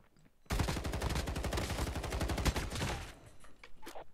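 Automatic gunfire in the video game Call of Duty Mobile, a loud rapid burst of shots lasting about two and a half seconds, then quieter sounds trailing after.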